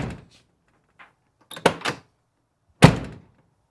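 The door of an OBS Ford truck, fitted with a new hinge bushing, is worked with a few light clicks and rattles and then swung shut in a single loud, solid thunk close by.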